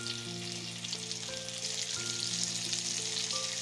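Pumpkin pieces and pumpkin greens stalks fry in a pan for a Bengali chachari, giving off a steady, close hiss and crackle of sizzling oil, continuous and unbroken, with faint tonal hum underneath and no talking.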